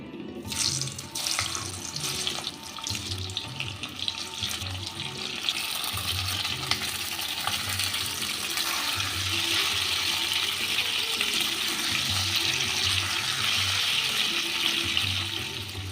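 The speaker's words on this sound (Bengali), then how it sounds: "এবার অল্প একটু লবণ ছিটিয়ে আমি এই সেদ্ধ আলুটা ভেজে নেব।" Boiled potatoes sprinkled with salt frying in hot mustard oil, a loud continuous hiss and spatter that builds and holds steady, close up, with no voices.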